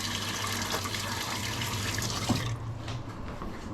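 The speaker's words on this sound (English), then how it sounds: "Now I'm just going to rinse this." Tap water runs steadily into a kitchen sink while something is rinsed under it, a continuous close gush that stops abruptly near the end, leaving only a faint drip and room tone.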